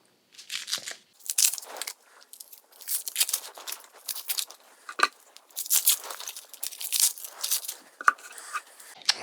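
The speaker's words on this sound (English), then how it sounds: "go down the middle here, cut that, peel your onion" Dry papery onion skin is peeled away by hand in a string of close, crisp crackles and crinkly tearing bursts, irregular and fairly quiet, with no talk.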